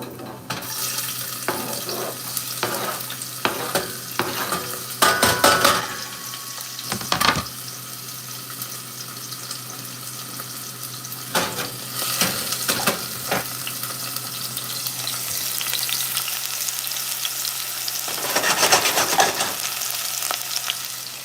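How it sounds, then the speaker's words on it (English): Chopped onions frying in hot oil in a pot on a stove, a steady close sizzle with intermittent scraping and stirring clatter and a few louder bursts, no one speaking. "We got our onions cooking"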